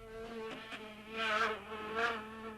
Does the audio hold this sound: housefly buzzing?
yes